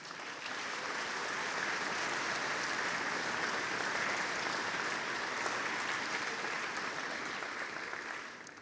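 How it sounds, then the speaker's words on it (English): Sustained applause from a concert audience at a county school bands event, a dense even wash of clapping that holds steady for several seconds before tapering off at the end. "give yourselves a round of applause for that"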